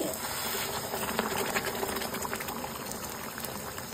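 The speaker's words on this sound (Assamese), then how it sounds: "এতিয়া মই এড কৰি দিছোঁ ইয়াতে গৰম পানী" Hot water goes into a pan of frying fish curry base, and a dense, loud bubbling hiss holds steady throughout with no voices.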